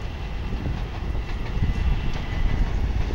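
A commuter train of about eight cars, heading to Port Washington, rumbles past close by in Queens, a heavy continuous roar with rhythmic low clatter from the wheels, steady and loud throughout.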